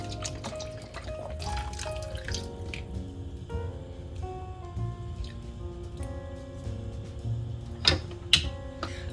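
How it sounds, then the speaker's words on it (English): 32 ounces of beef stock poured into a skillet of cooked beef for cheeseburger casserole: close, splashing, bubbly liquid with gurgles and small drips, ending in a couple of louder splashes. "Okay, so in with the beef stock."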